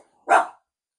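A dog gives one short, sharp bark close by as the postman goes past, then silence.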